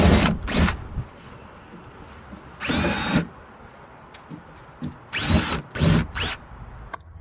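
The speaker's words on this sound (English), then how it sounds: "I'm just drilling holes through the foam." A power drill bores holes through EVA foam flooring laid on hatches, heard as about four loud, separate whirring bursts of a second or less, with quiet pauses between them.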